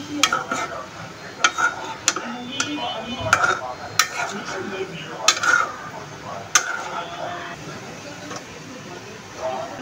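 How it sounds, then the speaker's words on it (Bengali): Vegetables stirred in a cooking pot bring a string of sharp metallic clinks and scrapes from a spoon against the pot every second or so, over a faint background sizzle. "এই তো সে এখন সবজিগুলো দিয়ে নাড়াচাড়া করতেছে"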